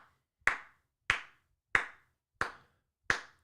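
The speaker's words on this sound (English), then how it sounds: "Everybody clap your hands." Hands clapping to start a chant, five sharp, crisp claps spaced evenly in a slow, steady beat, each ringing briefly before fading into near silence.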